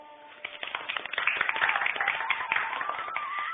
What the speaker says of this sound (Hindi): रीना का डांस खत्म होते ही सभी तालियां बजाकर उसका हौसला बढ़ाते हैं